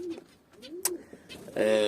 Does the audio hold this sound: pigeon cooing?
yes